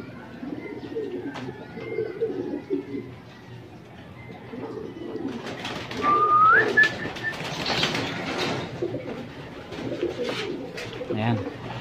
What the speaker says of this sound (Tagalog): So yan, masok kayo ibon.